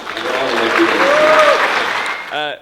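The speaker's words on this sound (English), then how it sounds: "So give yourselves a huge round of applause for being awesome." Loud, sustained applause from a conference audience at the Hackcon IV hackathon organisers' event fills the room for about two seconds, then fades as a voice begins.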